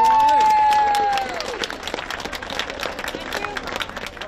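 At the Drentse 8 women's cycling race, a brief sustained tone gives way to outdoor crowd applause and scattered cheering, moderately loud and continuous, with voices mingled in.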